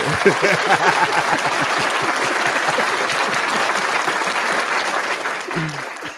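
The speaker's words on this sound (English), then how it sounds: "Where's our applause?" A studio audience on a podcast set breaks into steady, dense applause that holds for several seconds before tapering slightly, with a brief voice near the end.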